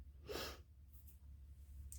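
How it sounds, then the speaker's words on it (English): A single sharp sneeze bursts out near the start, followed by quiet room noise and a faint sniff or breath toward the end. "I am going to sneeze"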